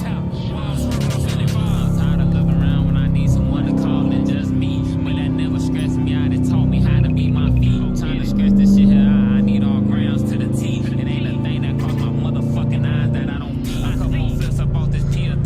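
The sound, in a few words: loud Dodge Challenger RT engine downshifting in traffic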